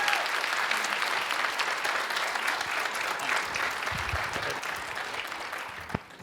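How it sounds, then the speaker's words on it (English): An audience at a community conversation on youth sports gives a sustained round of applause, with even clapping from a room of people that holds steady and then tapers off at the end. "a quick round of applause for the work that she's done"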